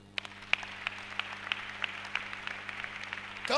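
A church congregation claps and cheers to acclaim Jesus during a sermon. The applause is steady and fairly distant, with a constant low hum under it.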